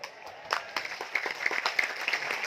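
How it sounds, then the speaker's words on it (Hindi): Scattered, uneven clapping from an audience at a motivational talk in Mumbai, fairly faint and spread across the whole moment rather than a single sharp clap. "मैं जब भी बोलूंगा आप एक बार ताली बजाएंगे।"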